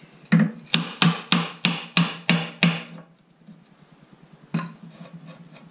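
Hammer blows drive a wooden staircase stringer into place on a housed stringer staircase, eight sharp evenly spaced strikes in quick succession, then a pause and one more knock, loud and close.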